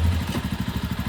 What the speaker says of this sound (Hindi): बाइक भी हो गई हमारी कूल स्टार्ट।